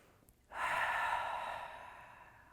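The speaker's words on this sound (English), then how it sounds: "Take a cleansing breath." A single deep cleansing exhale during a yoga session, a close, breathy whoosh that starts abruptly and fades gradually over about two seconds.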